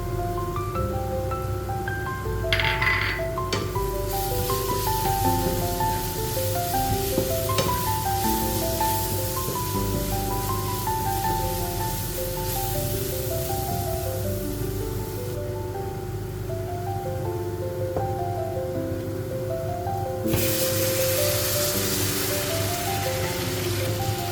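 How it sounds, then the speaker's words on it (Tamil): Cooked beef stirred into masala in a pan for a Kerala-style beef fry, a steady close sizzle and crackle like rain on a surface running throughout, with occasional scraping of the spoon and no talking. "அதுக்கப்புறமா நம்ம வேக வச்சு வச்சுருக்க பீஃப் எடுத்து அப்படியே இது கூட ஆட் பண்ணி நல்லா கிண்டி விட்டுக்கலாம்."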